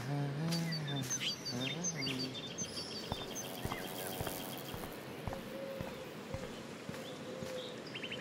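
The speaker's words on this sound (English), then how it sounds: "The birds are flocking around Samuel." Birds chirp and flock in the Life Is Strange video game, a cluster of bright tweets and calls early on that thins into scattered chirps over light footsteps and soft taps.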